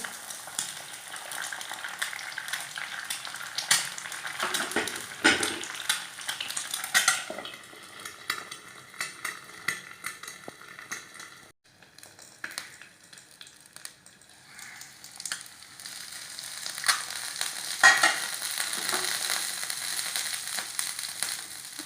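Egg frying in a pan for an egg burger while a utensil spreads and stirs it, with continuous sizzling, scraping and metal clinks, close and fairly loud, and no voices.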